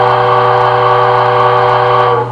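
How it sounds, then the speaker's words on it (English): A steam whistle from an MTH HO-scale DCC 2-8-2 Mikado model locomotive sounds as one loud, sustained chord-like blast that holds steady for the whole stretch before easing slightly at the end, with no talking. "I can't even describe to you how awesome the whistle is."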